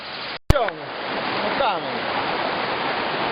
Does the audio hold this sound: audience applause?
no